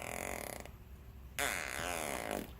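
A man imitates a dolphin with his voice, giving a buzzing, blown sound followed by a squeaky rising and falling warble, fairly close and alone.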